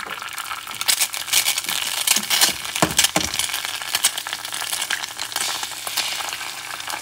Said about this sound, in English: I'm going to cook a couple eggs